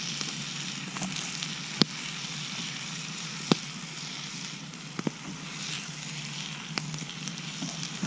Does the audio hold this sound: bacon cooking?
yes